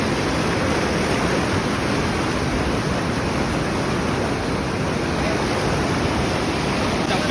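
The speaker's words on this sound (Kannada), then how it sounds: "ನೋಡಿ ಇಲ್ಲಿ ಎಷ್ಟು ಜೋರಾಗಿ ಹರಿತಾ ಇತ್ತು ನೀರು" Fast-flowing stream water rushes in a steady, loud, unbroken roar that fills the whole stretch, with no voices.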